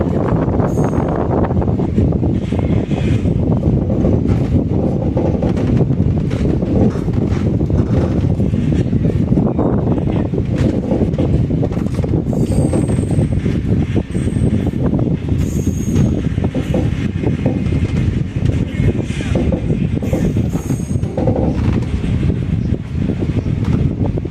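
The Basava Express rolls between Yeshwantpur and Mysore with a constant loud rumble and clatter of wheels on rails, threaded with faint wheel squeals and wind rushing past.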